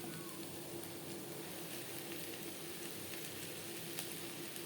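Spiny gourd (kakrol) with slit green chillies fries in a pan, a steady, fairly quiet sizzle that hisses evenly throughout with a faint clink of stirring, no voices.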